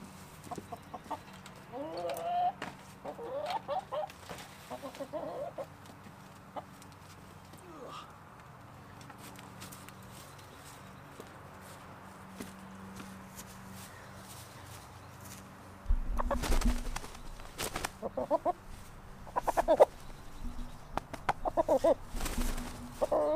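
Chickens cluck and fuss close by outdoors, with soft bursts of clucking and some louder scuffling and handling noise in the second half, with someone talking at times.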